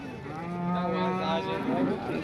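A cow lets out one long, close, resonant moo at a busy rural cattle market in Modnimb, rising and falling over a low murmur of crowd noise.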